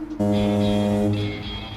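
A single loud, blaring vehicle horn honks for about a second, a deep brassy tone that fades away at the end.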